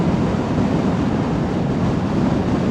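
Heavy, continuous wind rush buffets the microphone while riding a Vespa scooter near Palmdale, a loud low roar with no break and no speech over it.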